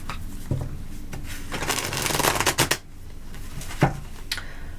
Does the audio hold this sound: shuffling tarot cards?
yes